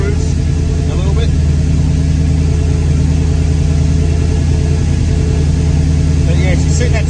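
A car engine fitted with Holley Sniper dual-quad fuel injection idles steadily on E85, a loud, close, even rumble with a low throb; a voice talks over it.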